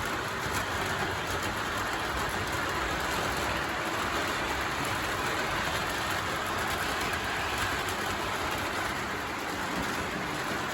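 An O gauge model train running along its track, giving a continuous, even rushing rumble with faint clicking, steady and close for the whole stretch.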